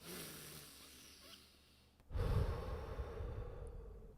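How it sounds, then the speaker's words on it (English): A quiet, airy breath is drawn in, followed by a louder, rushing nasal inhale that continues close to the microphone. "I don't know what sounds you just heard from my nose,"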